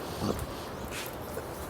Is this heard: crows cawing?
no